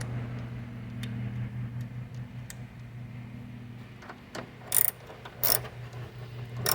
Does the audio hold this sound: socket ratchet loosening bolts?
yes